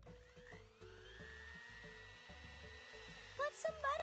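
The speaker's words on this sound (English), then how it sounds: "Let's use the mixer." Electric mixer whirring in a cartoon baby cooking game, a steady buzzing drone with short pulsing cut-outs and bright chime-like effects near the end.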